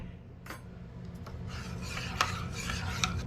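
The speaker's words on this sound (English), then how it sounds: "we're gonna just give it a little bit of a stir" Homemade pizza mix being stirred in a pot for a copycat Pizza Hut breadstick meal, a soft continuous scraping and rubbing that grows busier partway through, with a few sharper utensil scrapes against the pot.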